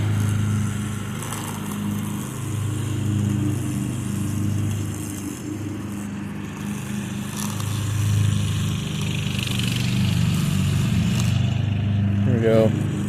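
A Craftsman riding lawn mower cutting grass gives a continuous, close engine drone with a low rumble that stays steady throughout.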